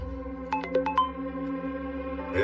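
Phone ringtone on a video call, a short burst of four or five quick electronic beeps rising clearly over a steady low hum, then fading into quiet background noise.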